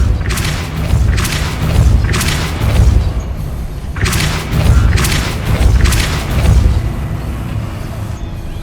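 A Depulso spell cast in Hogwarts Legacy produces a series of heavy booming thumps in a loose repeating rhythm, about seven impacts with whooshing bursts, loud and close.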